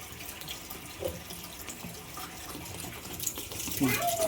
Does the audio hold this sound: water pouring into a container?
yes